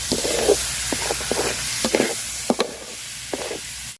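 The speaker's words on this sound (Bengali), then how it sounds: "চাউলটা আমি সুন্দর করে ভাজা নিব।" Rice toasts in a pan with browned onion and garlic, giving a steady loud sizzle broken by several scraping stirs and soft knocks, with no voices.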